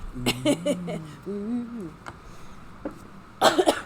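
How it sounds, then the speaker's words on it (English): A voice makes a few short tonal sounds, then after a pause a single rough, harsh cough bursts out near the end. "I have a little cough."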